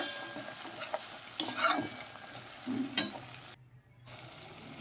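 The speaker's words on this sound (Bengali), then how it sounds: "এবার আমি দিলাম হলুদ গুঁড়ো আবারও কষিয়ে নিচ্ছি" Chana masala base of ground tomato and spices, with turmeric powder just added, is fried and stirred in a pan, giving soft sizzling with a few scraping spoon strokes and a brief quiet gap near the end.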